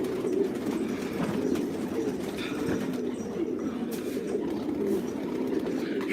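Pigeons being fed coo and rustle in a soft, continuous flock murmur close by, with light scattered activity and faint background noise.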